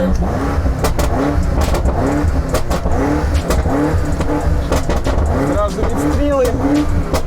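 A car engine in Sport Plus mode revs hard and loud in repeated bursts to about 4,500 rpm, rising and falling in pitch, with a person talking over it.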